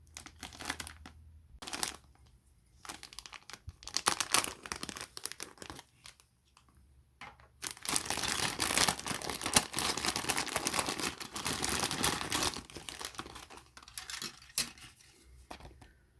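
A plastic bag holding a Millennium Falcon model, its stand and a thin sheet of stickers is handled up close, giving intermittent crinkling and rustling bursts that become a steadier, louder stretch of crumpling in the second half.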